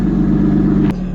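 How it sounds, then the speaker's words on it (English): A Lotus Evora GT supercharged V6 engine on a cold start, running at a steady, throaty idle, loud and close, with a low, even rumble that barely changes. "So the cold start won't sound crazy"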